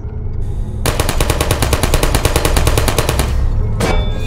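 Rapid automatic gunfire from turrets on a live fire course in the Portal video game, a sustained loud burst of evenly spaced shots lasting about three seconds, followed by a brief quieter echo of shots.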